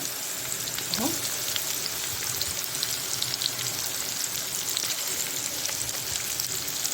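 Onions frying in hot oil in a home kitchen while making Egyptian koshari, a steady close sizzle and crackle that runs evenly throughout with no voices.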